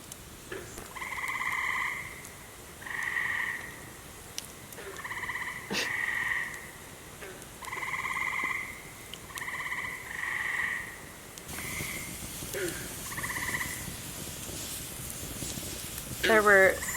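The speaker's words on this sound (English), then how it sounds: "as it got dark, we got to hear the bullfrogs that were in the pond" Bullfrogs croak from a pond at dusk in a string of repeated, evenly spaced calls at moderate distance over quiet outdoor ambience, with the calling thinning out toward the end.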